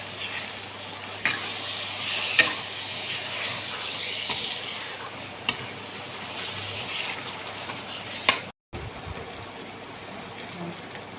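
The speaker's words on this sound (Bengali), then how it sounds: "এবার সামান্য জল দিয়ে মশলাগুলো একটু কষে নেব" Spices cooked down with a little water in a pan give a steady, close hiss of sizzling, with a few sharp clinks of a utensil against the pan and a brief cut near the end.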